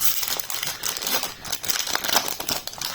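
Pokémon booster pack foil torn open, a dense, continuous crinkling and ripping of thin foil wrapper at close range, with sharp crackles scattered throughout.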